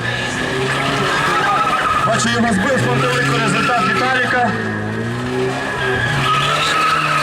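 A small-engined car skids and squeals its tires through an autoslalom course, with a steady loud engine strain and tire scrub lasting throughout while a commentator talks over it.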